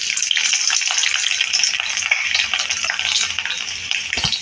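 Garlic fries in oil in a pan for red amaranth greens, making a steady crackling sizzle close by with a few stirring scrapes and no talking.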